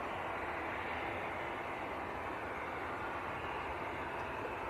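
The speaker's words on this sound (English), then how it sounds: "That was Aer Lingus from Dublin that just arrived" Aer Lingus airliner from Dublin landing at Leeds Bradford Airport, a steady broadband jet roar held at a moderate distance throughout, with no voices.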